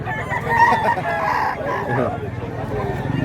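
Chickens at a Filipino rooster sale cluck, and a rooster crows loudly and close. Voices murmur faintly in the background.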